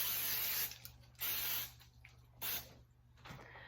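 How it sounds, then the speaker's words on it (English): Three short bursts of baking spray hiss onto a baking pan, each about half a second, separated by brief pauses over a low steady hum. "take our baking pan and we are just going to spray it"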